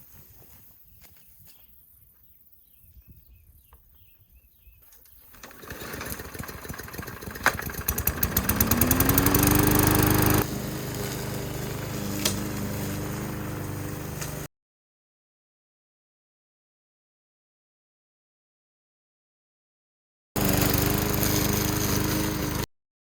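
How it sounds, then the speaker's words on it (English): A small lawn mower engine starts up and runs with a steady droning hum, loud and close, cuts out abruptly, then resumes after a silent gap. "I'm going to go mow part of our yard"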